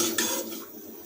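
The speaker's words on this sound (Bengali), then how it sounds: "এবার এই তেজপাতা শুকনো লঙ্কা ফোড়নটাকে আমরা গরম তেলের মধ্যে খুন্তি দিয়ে নেড়ে নেব।" A spatula stirs bay leaf and dried chili in hot mustard oil in a pan, giving a short metallic scrape and clink with a faint sizzle.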